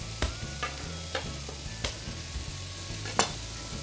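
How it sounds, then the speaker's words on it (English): Bacon and onions sauté in a pan, with a low sizzle running throughout and a few sharp scraping stirs spaced about a second apart, close and fairly quiet with no voices. "Saute the onions with the bacon"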